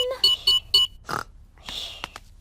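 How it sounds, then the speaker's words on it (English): Three short electronic beeps in quick succession, followed by a brief rustle and a fainter chirping tone. "Switch the alarm back on."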